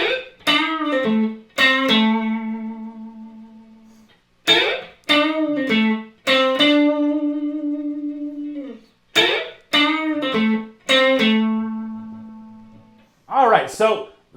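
Blues electric guitar lick, phrased as sustained bent notes with vibrato in several bursts separated by short gaps, played alone and up close.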